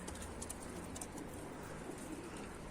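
Pigeons coo softly and faintly in the distance over a steady outdoor background hiss, with a few higher chirps, no voices.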